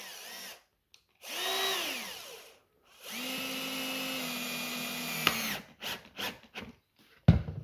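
Cordless power drill driving a screw into wood, two separate whirring bursts that rise and settle under load, close by, followed by scattered knocks and handling clatter.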